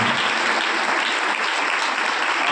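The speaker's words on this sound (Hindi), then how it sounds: "जोरदार ताली से एक बार प्रशंसा करते हैं" Church congregation applauding loudly in praise during a worship service, a dense, sustained roar of many hands clapping, close and full throughout.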